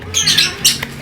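A lovebird of the konslet type, recently left without its mate, gives a few sharp, shrill squawks at close range in quick succession.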